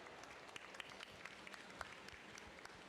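An audience at a women's forest leadership event claps in sustained, dense applause that stays faint and distant with a few sharper individual claps standing out.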